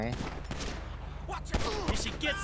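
Gunfire rings out in the video game GTA V: several sharp shots land in quick succession over ongoing game sounds.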